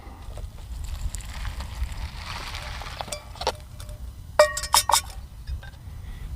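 About 8 ounces of water is poured into a freeze-dried Trailtopia Cajun Smack Chicken and Rice meal bag, giving a soft close wash of liquid with a few sharp crinkles and clinks from the bag near the end.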